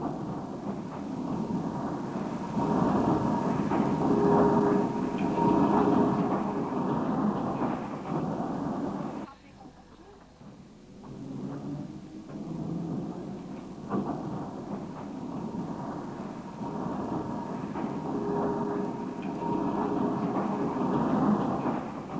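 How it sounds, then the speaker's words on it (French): Type S tram on a double-track line in a 1963 film recording, a continuous low rumbling roll with clattering texture, dipping briefly in the middle before resuming at steady moderate loudness. "parcourez la double voie du tram jusqu'à l'église de Waterloo"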